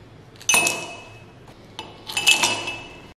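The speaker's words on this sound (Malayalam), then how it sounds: "ഗ്ലാസ്സിലേക്ക് അല്പം ഐസ് ക്യൂബ്സ് ഇട്ട് കൊടുക്കുന്നുണ്ട്." Ice cubes drop into two drinking glasses in two sharp clinking bursts, close and bright, each rattling briefly before settling, with no talking.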